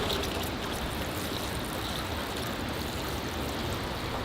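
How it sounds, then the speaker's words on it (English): Water poured at the base of a potted Douglas fir bonsai, a steady close splashing trickle soaking the soil, continuous and even throughout with no talk. "Okay, and I'll give the base of the tree a water."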